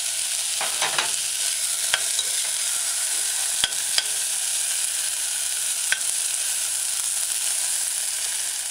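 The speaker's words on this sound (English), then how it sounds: "add the mashed garlic, stir it in a few times, allow it to saute." Chopped scallion and mashed garlic sauté in a pan for a vegan broccoli coconut stew, a steady close sizzle punctuated by a few sharp spoon clicks and stirring scrapes, without any speech.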